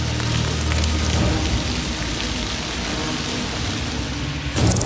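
Hail pours down in a steady, heavy, hissing rush, like a downpour on a hard surface, used as a sound effect in a church drama about the Israelites' exodus from Egypt, with a faint rumble at the start and no voices.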